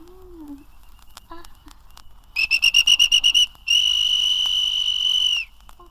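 A voice mimicking a traffic police whistle: a burst of rapid trilled pips followed by one long sustained shrill tone, loud and close, with faint speech sounds before.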